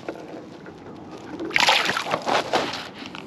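Short splash and slosh of water as a fish, about 30 centimetres long, is released from a boat on a lake, a quiet lapping background breaking into a brief burst of splashing.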